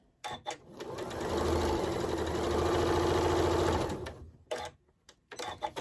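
A sewing machine runs in one long continuous burst as quilt block rows for a Friendship Star block are chain-stitched, loud and close, with short clicks and handling noises before and after.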